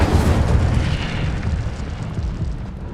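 The Incendio fire spell is cast in the video game Hogwarts Legacy, a loud, deep roaring burst that starts at full force and rumbles on, fading slowly over a few seconds with no voices over it.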